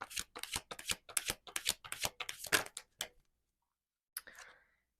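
A deck of tarot cards is shuffled in a rapid run of crisp riffling flicks for about three seconds, then goes quiet before a single short card shuffle or slide.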